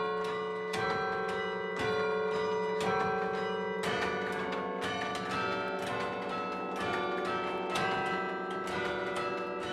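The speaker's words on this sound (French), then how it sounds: "le campanile où se cache le carillon qui fait la fierté des Perpignanais" Carillon bells dating from 1878 ring from the bell tower of Perpignan cathedral, sustained tones struck in a steady succession of loud, near peals throughout, with no voices.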